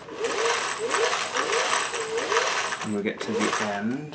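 Sewing machine running in rapid bursts of even stitching while a seam on a vintage embroidery sampler is covered, close and clear, with a person talking over the last part.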